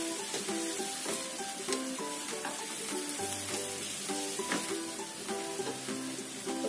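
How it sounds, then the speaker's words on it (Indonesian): Chicken rolls stir-frying in a wok with sesame oil and soy sauce, giving a steady, moderate sizzle with occasional utensil taps, layered over soft tonal background music. "Tumis sampai matang."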